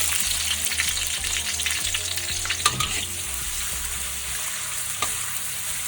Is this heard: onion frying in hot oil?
yes